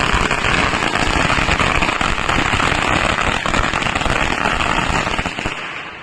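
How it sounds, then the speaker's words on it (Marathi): A long string of firecrackers set off to celebrate a court ruling that allows bullock cart races, crackling loudly and continuously in dense rapid bursts for several seconds before tapering off at the end. "आम्ही आता फटाक्याची माळ लावून सगळ्यात आनंद साजरा करणार आहोत"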